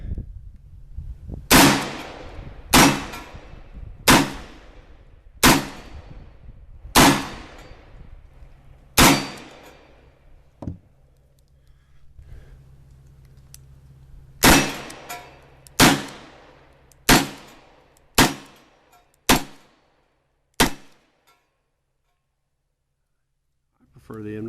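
Sharp, loud revolver shots from an M1917 and a Second Model Hand Ejector on an outdoor range, about fourteen single reports spaced a second or two apart, each with a short ringing decay, in two strings separated by a pause.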